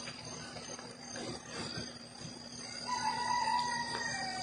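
A rooster crows in the distance amid faint outdoor background noise, with a steady higher tone running through the later part.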